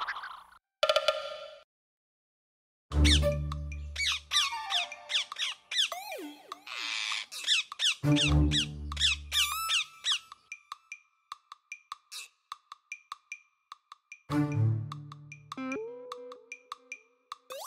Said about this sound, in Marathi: चेंबनच्या मदतीने स्वतंत्र झालेले पोपट चेंबन आणि अंबूच्या मागे